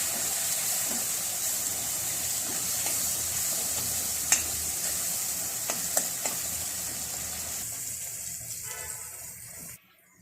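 Crushed raw peanuts and sesame seeds fry in a pan, giving a steady, even sizzle with a few sharp crackles, until it cuts off abruptly near the end.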